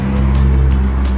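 A Honda FN2 engine at full throttle, a loud, steady low drone with a vibrating rumble, heard alone for about a second.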